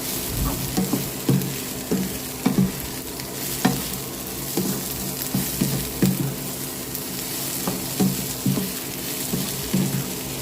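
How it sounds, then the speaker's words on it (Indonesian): Capcay vegetables with sliced bok choy stems sizzle steadily in a hot pan while a utensil stirs them, each stroke scraping in an irregular rhythm over the continuous frying hiss, close and clear with no voices. "Kita aduk-aduk sampai tercampur rata."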